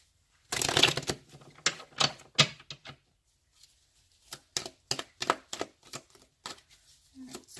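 Tarot cards being shuffled in quick bursts of riffling and snapping, a dense flurry at first, then a series of shorter separate shuffles, close and fairly crisp.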